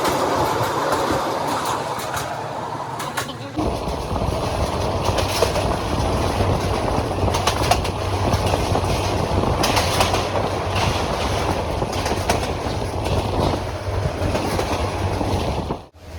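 Jamalpur Express train running through Tongi Junction station in Bangladesh, a loud, continuous rumble with rhythmic wheel clatter heard up close for the whole stretch, with no talking.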